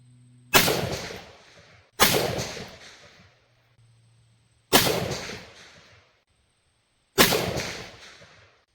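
Four sharp, loud shots from a suppressed Armalite AR10 rifle, each a crisp crack with a short decaying tail, spaced unevenly a second or more apart with near-silence between.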